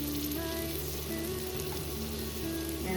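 Tomatoes frying in oil in a pan for kushka, a continuous close sizzle with a steady low hum underneath.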